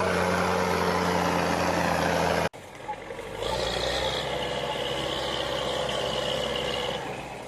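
An M35A2 military truck labors through deep mud, its heavy engine droning loudly after an abrupt cut from a louder rumbling section, with a steady strained tone and occasional hiss.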